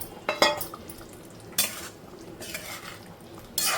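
A spoon scrapes and clinks against a pan while masala paste with fried paneer and salt is mixed, giving several close, irregular scraping strokes with brief metallic knocks and no talking.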